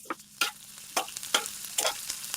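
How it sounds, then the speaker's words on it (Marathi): Crushed garlic dropped into melted butter and stirred, with soft sizzling and several sharp scraping stir strokes, close and quiet, no talking. "बटर मेल्ट झालं की आपण लसूण क्रश करून घेतलेला तो घालून घेऊया."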